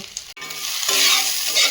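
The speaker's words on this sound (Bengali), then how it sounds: "মাছ ভাজা হয়ে এসছে এবার কটা কাঁচা লঙ্কা ফরিতে আর একটু নেড়ে চেড়ে লঙ্কাগুলো একটু ভাজা ভাজা হবে" Fish and green chillies fry in oil in a pan, with a brief burst of crackling sizzle and scraping as the pieces are stirred.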